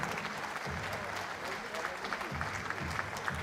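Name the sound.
boxing crowd applause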